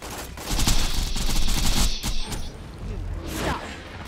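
Rapid gunfire in Borderlands 2 fired at small spiderants near an Emperor Spiderant queen, a loud dense burst of shots with whooshes, a lull, then more scattered shots and impacts.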